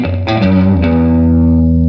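Electric guitar through a Klempt Echolette E51 tape echo on its short setting, a few picked notes followed by a sustained chord that rings out with quick repeating echoes and slowly fades, loud and alone.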